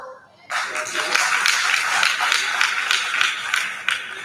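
A group claps steadily together, a dense sustained patter of hands that starts abruptly and keeps going.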